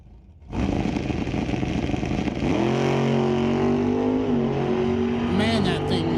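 A 2018 COPO Camaro drag race car launches hard down the strip during NHRA qualifying, its engine roaring loud and steady as it pulls away, with an announcer talking over it.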